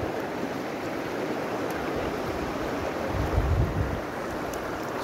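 Cold mountain stream water flows steadily at an outdoor river spot, a continuous broadband rush with a slight swell partway through and no talk.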